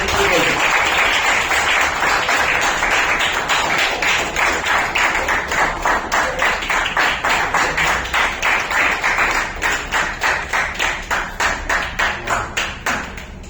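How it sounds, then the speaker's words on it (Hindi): Audience at an orator-of-the-month award ceremony applauding a certificate presentation, loud continuous clapping that settles into a rhythmic unison beat, gradually slowing and fading toward the end. "जोरदार तालियां बजती है।"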